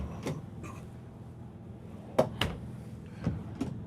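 Drawers under the dresser and bed of a Thor Hurricane 34E motorhome are opened and closed, giving several sharp wooden clacks and thumps spaced across a few seconds over a quiet room.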